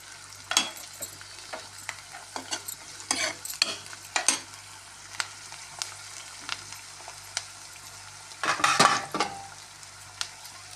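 Carrots fry in a pan for a bhaji, with repeated scraping stirs over a steady low sizzle and a louder burst of clatter near the end, close and loud, with no talking.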